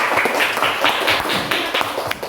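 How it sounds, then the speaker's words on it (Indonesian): Classroom applause for a student group, dense close-up clapping at a brisk, uneven rhythm, loud and without talk. "beri tepuk tangan untuk kelompok 2"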